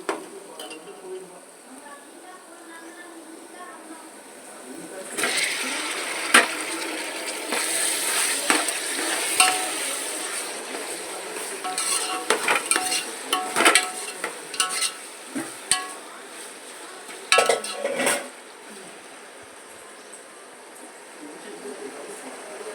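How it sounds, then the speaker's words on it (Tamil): Tomatoes sautéing in a pan for seeraga samba chicken biryani, giving a steady low sizzle with scattered stirring and clinks of utensil on pan, the sizzle growing louder partway through. "தக்காளி போட்டு நல்லா வதங்கட்டும்."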